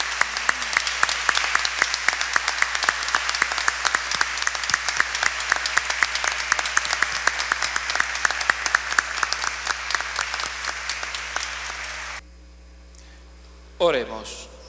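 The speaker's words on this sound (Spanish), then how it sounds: "démosle un fuerte aplauso al resucitado" Congregation applauding during an Easter Vigil Mass in church, sustained crisp clapping from many people over a low electrical hum, ending abruptly, followed by near silence and a brief noise.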